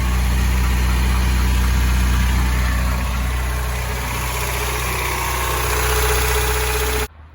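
A car engine idles loudly and close up, its idle surging with a slight swell and dip in level, a deep steady hum before it cuts off abruptly near the end.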